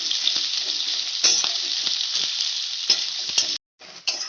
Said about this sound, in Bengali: পেঁয়াজগুলো গোল্ডেন ব্রাউন করে ভাজতে হবে।